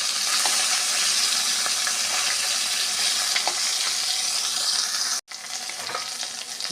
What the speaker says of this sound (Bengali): মাছ ভাজা হয়েছে এবার তুলে নেবো